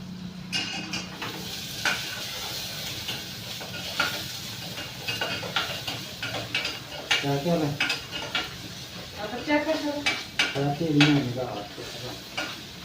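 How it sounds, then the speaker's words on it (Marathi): Onion fries in a pan for a home-cooked vegetable dish: a continuous near sizzle punctuated by repeated spatula scrapes and utensil knocks, with a faint voice murmuring in the background later on. "कांदा घातलाय भाजायला"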